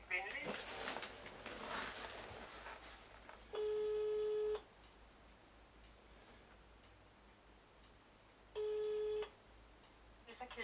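Telephone call placed in Danish, with two long ringback tones about four seconds apart, each a steady harmonic buzz lasting roughly a second, heard faintly over quiet background after brief rustling.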